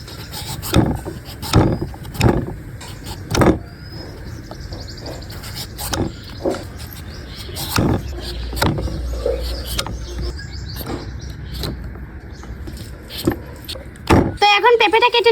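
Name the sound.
raw papaya being peeled with a peeler machine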